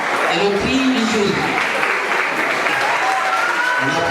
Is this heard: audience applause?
yes